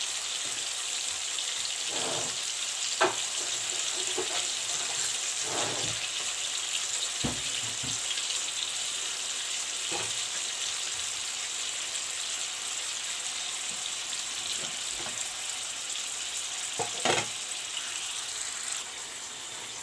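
Beef steak fries in a pan over low heat with a steady moderate sizzle and a soft hiss, broken by scattered light pops and crackles, close and continuous with no speech.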